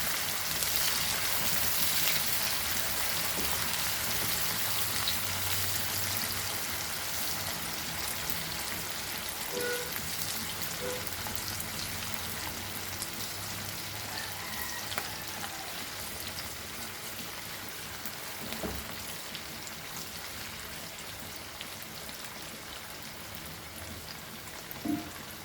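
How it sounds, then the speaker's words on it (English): Ingredients for a Goan mango pickle frying in a pan over a medium flame, giving a steady, dense sizzle and crackle that runs unbroken throughout with no voices. "Medium flame. And fry this nicely."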